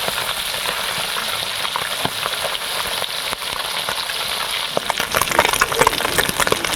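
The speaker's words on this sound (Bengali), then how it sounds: "মাছটা ভালো করে কড়া করে ভাজতে হবে।" Puti fish frying in hot oil until crisp, giving a steady close sizzle with scattered sharper crackles and pops that grow busier toward the end.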